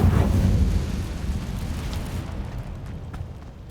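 A Confringo blasting spell fires in Hogwarts Legacy, giving a heavy booming blast that rolls into a long, fading low rumble with faint crackling debris.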